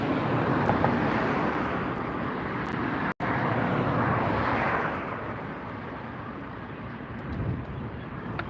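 An airplane on final approach to LAX after a short coastal flight from Santa Rosa, skimming low over trees: a steady, loud broadband engine roar holds throughout, with one brief dropout partway through.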